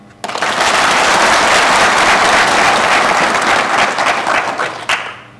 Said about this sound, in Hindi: आप अपने लिए एक बार ताली बजाइए।